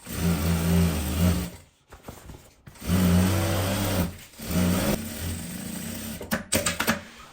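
Sewing machine stitching fabric for a travel bag, running in steady close bursts with short pauses between seams, ending with a few quick short stitches.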